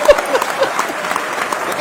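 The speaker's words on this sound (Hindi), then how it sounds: "तालियां बढ़िया से आनी चाहिए" Audience applause at a Hindi comic poetry gathering (kavi sammelan), a short uneven burst of clapping with a voice speaking over it.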